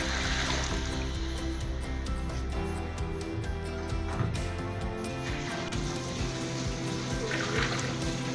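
Water is poured into a pot of soaking rice and fried chickpeas while making chana pulao, giving a steady, continuous splashing and trickling that runs close and fairly loud throughout, with no one speaking.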